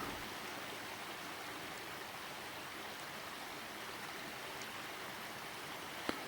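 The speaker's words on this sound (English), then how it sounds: "But just enjoy the silence, Annie, the tranquility, the peace of the water and stuff." Steady rushing of a mountain stream near a remote bothy, continuous broadband water noise throughout with no talk, a brief faint click near the end.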